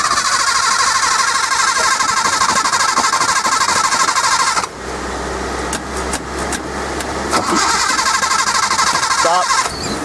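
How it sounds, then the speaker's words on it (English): Datsun 240Z engine with Weber 40DCOE carburetors on individual throttle bodies cranking over: a loud, steady starter whirr that drops to a lower churning drone partway through, close and alone. "So now we're going to crank her up."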